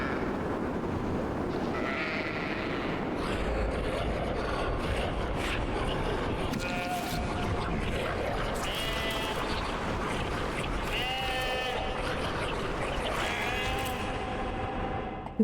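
Sheep bleat in a video game, several wavering cries rising at intervals over a steady windy weather ambience that fills the whole stretch, with a voice talking faintly at points.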